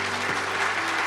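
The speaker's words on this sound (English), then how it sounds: "Big rounds of applause, please" A large audience at the Eurasia Group G-Zero Summit applauds to welcome Japanese Prime Minister Kishida, a brief, dense and steady burst of clapping.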